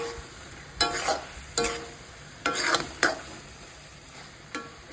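Chicken livers sauté in a pan without oil, with a handful of short scraping stirs and sizzling bursts spaced irregularly, fairly close and clear, with no voices.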